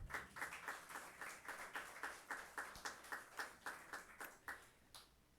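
A church congregation at a Sunday Mass claps for a priest, Father Jean-Robert, in a faint, distant, regular rhythm of clearly separated claps that slowly fades out.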